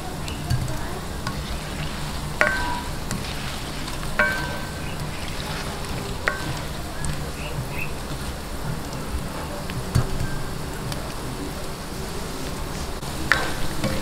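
Carioca, glutinous rice balls frying in oil on a stove over medium to low heat, giving a steady crackling sizzle with occasional sharp pops scattered throughout, close and continuous.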